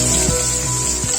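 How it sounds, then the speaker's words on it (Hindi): Cumin seeds and two chopped onions hit four tablespoons of hot oil, giving a steady, close hiss of sizzling with a low humming drone underneath. "अब हम 1 टीस्पून जीरा डालेंगे, 2 कटे हुए प्याज ऐड करेंगे"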